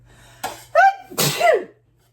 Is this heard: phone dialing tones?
no